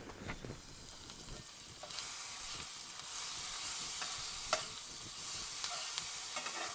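Garlic stirred into shrimp and grits sizzling in a hot pan, a steady frying hiss with a few scraping clicks of the spoon, close and fairly loud with no talking.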